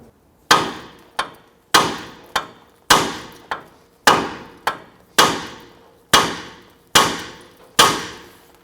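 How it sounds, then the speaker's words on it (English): Repeated hammer blows on the steering knuckle of a 2005-2021 Nissan Frontier to release the outer tie rod end, eleven sharp metallic strikes in a steady rhythm, close and loud with ringing decay. "I'm going to use a hammer. I'm going to strike the knuckle here."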